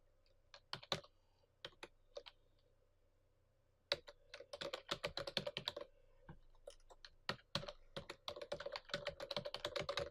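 Someone types a hostname on a computer keyboard, quiet close key clicks in short bursts at first, then a denser run of rapid keystrokes after a brief pause.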